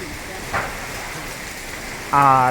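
Steady rain falls during a flood in Talung, a dense hiss throughout, with a voice speaking briefly near the end.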